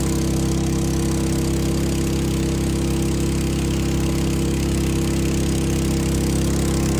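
A water pump set's engine runs steadily at a constant idle-like drone, loud, close and continuous throughout, with no speech over it.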